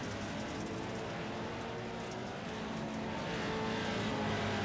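Off-road race trucks roar around an Iowa Speedway rallycross course, a dense, continuous engine drone that swells slightly louder toward the end, with no talk over it.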